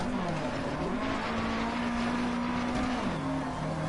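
In the DiRT Rally video game, a rally car engine hums loud and continuous along a stage, pitch stepping up and down with gear changes and throttle, backed by steady road and gravel noise.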